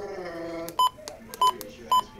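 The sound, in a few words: weather radio beeping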